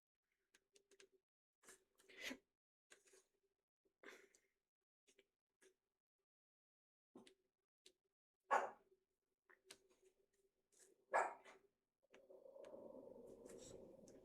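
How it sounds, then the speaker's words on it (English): A dog at home gives scattered short barks and yelps, a few sharp louder ones standing out amid quiet gaps, followed near the end by a steadier low muffled noise. "He's going to start barking."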